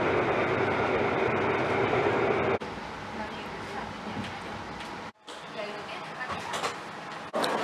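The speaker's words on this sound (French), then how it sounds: "Donc là on est en train d'arriver au niveau du métro." Metro train in Malaga, Spain, a steady loud rumble of the carriage in motion with abrupt shifts in level, heard alone without talk.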